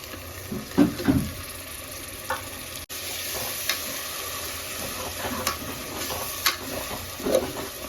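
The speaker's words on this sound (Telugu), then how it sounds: "జింజర్ గార్లిక్ వేసి మనం పచ్చివాసన పోయే వరకు దాన్ని ఫ్రై చేసుకోవాలి" Ginger-garlic paste sizzles and fries in a pan for mutton biryani, with a steady hiss broken by several close scraping stirs, no talking.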